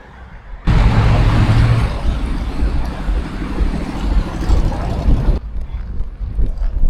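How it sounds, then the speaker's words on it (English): Cars rush past a cyclist on a road on the way to a rural trail, making a loud, sustained roar of tires and wind that cuts off abruptly, followed by quieter road noise. "Traffic to get to the trail."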